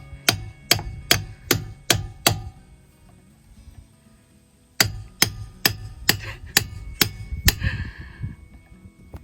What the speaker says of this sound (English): he told us to hammer the crud out of it and just break her off